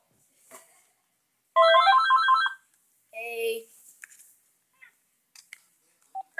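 A phone's electronic ringtone plays a short melodic burst, then a second brief chime, with scattered quiet sounds around it.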